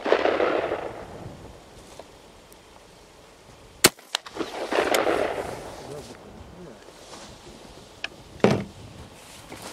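A Fabarm SAT8 shotgun fires slugs at a 50 m range: a few sharp, isolated reports spaced several seconds apart, standing out over steady outdoor background noise.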